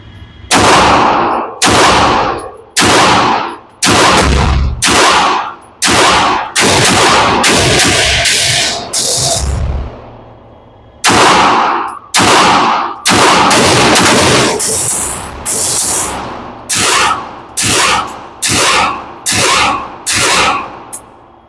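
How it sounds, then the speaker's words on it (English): Gel blaster shots at a target while comparing an MPA DS9 Hybrid IDPA V2, KW Vulcan, WT Demolitia and AF Romulus: a long series of loud, sharp bursts, some single and some in quick strings, with brief pauses between. "Shooting a little bit low on that Vulcan, but you can see it on camera better than me."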